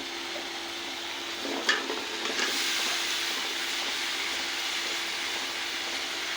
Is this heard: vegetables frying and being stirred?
yes